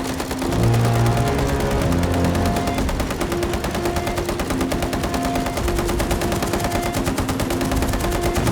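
Sustained rapid machine gun fire, a dense unbroken rattle of shots that continues steadily throughout, with no voices.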